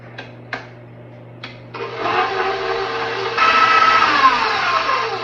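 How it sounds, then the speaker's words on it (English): An electric mixer creams 1 cup of butter for gingerbread snowballs, starting after a few light knocks and settling into a steady whirring drone that grows louder partway through. "So I'm putting my 1 cup of butter into the mixer, and I'm going to cream that"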